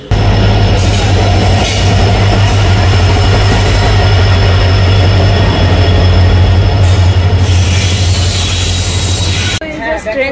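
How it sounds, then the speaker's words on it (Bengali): A passenger train pulls into a railway station, a loud, steady rumble of wheels and carriages with high metallic squeals from the wheels, filling the whole stretch before easing off near the end. "আর এই যে ট্রেন, এই যে আসছে"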